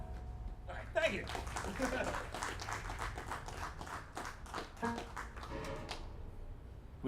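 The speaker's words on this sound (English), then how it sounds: "We can hear you clapping at home" An audience claps along at a live lunchtime performance, with a fairly quiet, steady stream of many hand claps that continues for several seconds amid a few voices.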